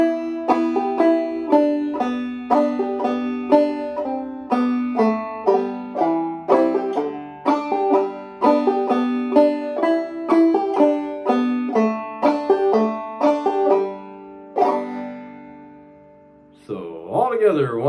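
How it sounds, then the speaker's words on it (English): Clawhammer banjo picking the second part of the Scottish tune Loch Lomond, bright plucked notes in a steady bouncing rhythm, close and clear, played alone with a brief pause near the end. "So the whole second part should sound like this."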